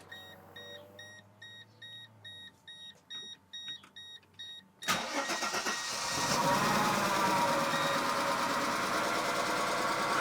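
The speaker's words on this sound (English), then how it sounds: "Going on, what, 9 years since this thing started up." A Mercedes W210, sitting unused for about nine years, chimes with dash warning beeps, then the starter cranks briefly and the engine catches into a loud, steady, slightly rough idle that continues to the end.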